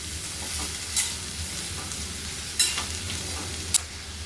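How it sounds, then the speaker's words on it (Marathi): Sliced capsicum and spring onion stir-fry for paneer chilli in a hot pan, giving a continuous close sizzle broken by three sharp spatula scrapes. "सिमला मिरची कापून ठेवलेली ती टाकूया. थोडीशी कांद्याची पात टाकूया. मस्त हलवून घेऊया."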